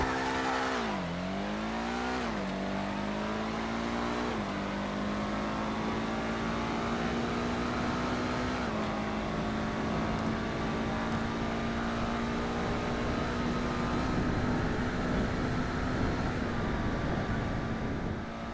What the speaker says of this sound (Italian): La nostra auto è pronta, partiamo col test drive, starò in silenzio per farvi sentire il rumore.